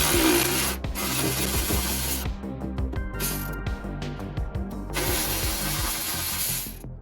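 Pneumatic impact gun rattling off the two nuts holding the O2 sensor to the manifold on a 1985 Toyota Celica, loud bursts of hammering separated by brief pauses, close up.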